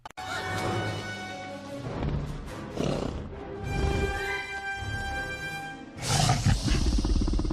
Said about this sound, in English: Doesn't it kind of sound like the raptor is letting out evil laughter?